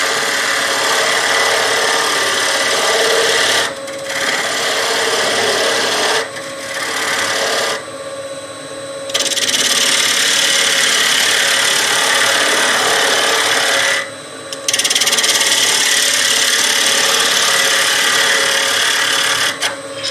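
A wood lathe turns a bowl while a tool takes light cuts, making a loud, continuous raspy scraping that stops briefly several times and then resumes, close by and without talk.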